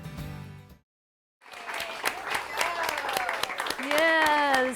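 A crowd claps and cheers as the drum majors salute at the champion trophy presentation for the Newton Marching Eagles at a marching band competition, after a brief silence, while a voice talks over the applause.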